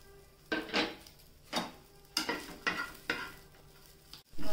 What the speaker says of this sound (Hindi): प्याज को भी टिके हल्का भाजी दो